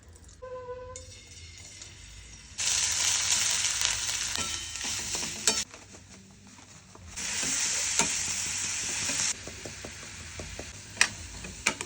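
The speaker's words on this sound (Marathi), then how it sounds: "पहिले तूप टाकून बेदाणे टाक." Raisins sizzle loudly as they fry in ghee in a pan for patole, a steady hiss rising and falling in bursts as a spoon stirs and scrapes close by, with no talking.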